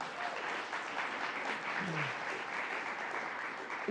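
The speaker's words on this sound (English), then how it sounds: "Let's give him a round of applause" Audience at a governor's press briefing applauding, a steady, somewhat distant patter of many hands with a faint voice briefly underneath.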